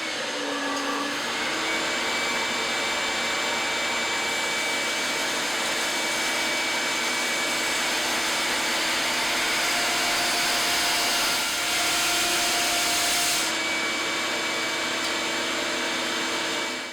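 A bandsaw fitted with a 3/4 inch blade resaws wood, a steady loud whine and rushing cut running unbroken for the whole stretch, with slight shifts in pitch as the board feeds through.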